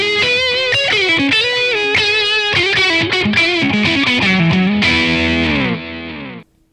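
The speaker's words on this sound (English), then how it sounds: "And it's set to a spring reverb." Electric guitar through a VOX StompLab modeling processor on a spring reverb preset: a loud, driven phrase of notes and chords ends on a held chord whose reverberant tail fades out over the last second.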